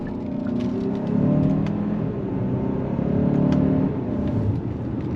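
A 2024 Hyundai Santa Fe Limited's turbocharged four-cylinder accelerates on throttle as a steady, moderately loud engine drone heard from inside the midsize SUV, swelling slightly and holding with a smooth hum.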